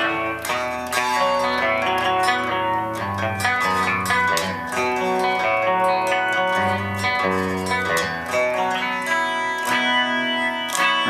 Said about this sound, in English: And we can even move over to the flanger setting.